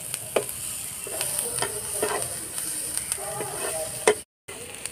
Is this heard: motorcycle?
no